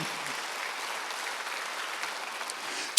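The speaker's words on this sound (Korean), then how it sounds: "박수 하나 더 해주세요" A church congregation at a Sunday worship service claps steadily, a dense even wash of applause from many hands that holds for a few seconds.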